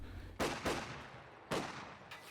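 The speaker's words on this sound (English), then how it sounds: "Machine gun in this building." Machine gun fire in a video game, heard as four sharp, fairly quiet bursts spread over two seconds, each fading quickly with no voices.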